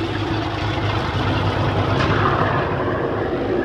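A boat engine runs close by with a loud gimbal bearing noise, giving a continuous, droning hum with a gritty mechanical edge at a steady, fairly loud level and no voices.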